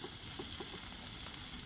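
Chicken fajitas sizzling on a hot Blackstone griddle, a dense, even frying hiss heard close and alone for a brief moment.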